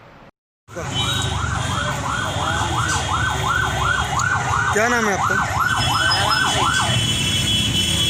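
An ambulance siren wails loudly and up close on a road in Mathura, rising and falling in a steady repeating cycle for several seconds, with engine rumble underneath and a brief voice heard.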